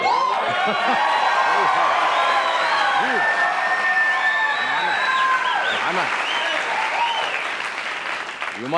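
A 1986 television studio audience applauds at a late-night talk show, with dense, sustained clapping mixed with a few whoops and laughter that fades slightly near the end.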